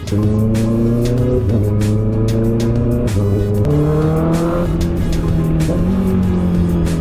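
Honda CBR650R motorcycle with a shorty exhaust revving: a loud, near, raspy engine note climbing through several gears in smooth stepped rises, steady and unbroken throughout.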